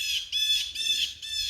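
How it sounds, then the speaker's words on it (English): Outdoors, a blue jay gives four harsh, raspy squawking calls in quick succession, fairly close and clear against a quiet background with no voices. "That's definitely a blue jay."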